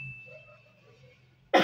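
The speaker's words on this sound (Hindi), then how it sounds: "खांसी आ रही है" A teacher gives a single sharp cough during a chemistry lesson. It comes loud and close near the end, after a stretch of faint hum.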